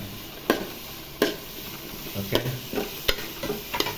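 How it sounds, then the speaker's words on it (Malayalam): Carrot and potato pieces are stirred in a frying pan, with soft sizzling underneath and sharp spoon-on-pan clacks coming roughly every second. "ഇതൊന്ന് നല്ലോണം ഇളക്കി"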